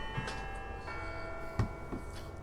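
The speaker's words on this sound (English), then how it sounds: "It's a church bell." Church bells toll in the Syberia video game, a faint, resonant ringing with a couple of soft strikes over a quiet ambient background.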